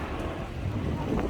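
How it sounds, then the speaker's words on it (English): Wind gusts roughly across the microphone on a cold November night on Oxford Street in London, a brief, dense, steady rush. "It's very, very cold today, very windy."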